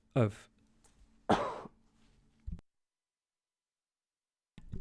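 Two sharp coughs about a second apart, close and fairly loud, followed by a brief throat noise, then silence.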